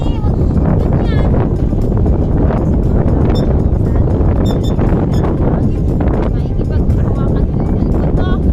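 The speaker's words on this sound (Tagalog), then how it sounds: "Hangin doon sa gitna." Gusty wind buffets a nearby microphone with a constant rumbling roar while people talk over it.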